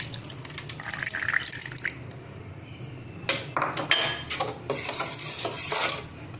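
Dissolved jaggery liquid poured through a kitchen strainer while making chutney vada: scattered metallic clinks and scrapes of utensils, then a trickle of liquid with clustered taps, close by and without speech.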